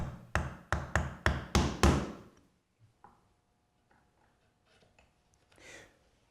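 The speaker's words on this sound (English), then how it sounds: "using my 1/4 inch and my 3/4 inch chisel, I remove the waste, squaring it up" Wood chisels, 1/4 inch and 3/4 inch, squaring a router-rounded corner: six sharp evenly spaced taps up close, then a few faint scattered clicks.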